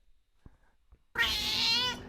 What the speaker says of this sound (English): this is the first meow in the clip